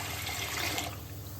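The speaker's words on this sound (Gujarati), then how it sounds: "આમાં થોડું પાણી એડ કરી દઈશું." Water splashes into a cooking pot in a home kitchen, a short continuous pour that is steady and close, then eases slightly toward the end, with no voices.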